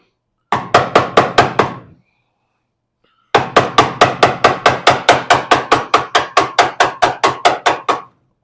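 Metal hammer blows on a 1970 car's cowl area, a quick burst of about six sharp strikes, a pause, then a long steady run of roughly twenty evenly spaced loud clanging hits close by.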